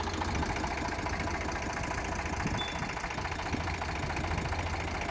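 A used tractor idles steadily, its engine giving an even, low, knocking rumble with constant vibration and no break, close and moderately loud.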